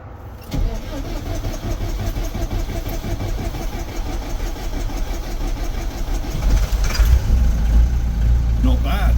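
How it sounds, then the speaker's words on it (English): Old, tired Perkins diesel engine in an OKA 173 vehicle cranking and firing on a cold start, a steady near churning that swells louder as it catches and runs rough, with someone speaking over it. "cold start now, Perkins. I think she's just old and tired, but let's see how long she takes to fire off this morning"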